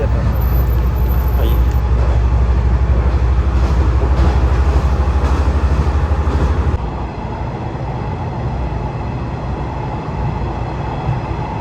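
A train in Japan rolls along with a loud, steady rumble and rattle from inside the carriage. The noise drops suddenly as it slows, and a faint voice is heard over the din.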